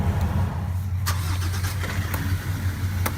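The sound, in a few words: motorcycle engine running with throttle stuck on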